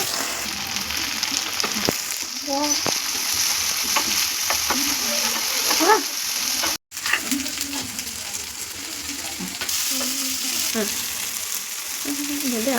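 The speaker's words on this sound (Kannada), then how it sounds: "ಹಾಕಿ ಚೆನ್ನಾಗಿ ಇದನ್ನು ಫ್ರೈ ಮಾಡ್ಕೊಳ್ಳಿ" Spices fry in a pan for an egg fry, a loud continuous sizzle with repeated stirring scrapes, a brief cut partway through, and a voice speaking faintly under it.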